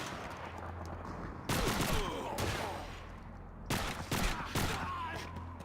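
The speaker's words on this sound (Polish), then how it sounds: "Dobra, dwa strzały i trup." Bursts of gunfire from Call of Duty 2, a World War II shooter: loud rattling volleys arrive in separate clusters, with sharp shots and echoing tails over a quieter game background.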